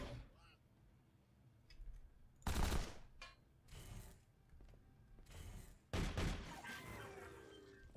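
Bursts of auto shotgun fire from a skeletal Tarka in the game Sword of the Stars The Pit: four or five loud, rough blasts spaced a second or so apart, with quieter clanking and rattling between them.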